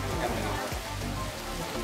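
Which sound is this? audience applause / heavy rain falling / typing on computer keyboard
heavy rain falling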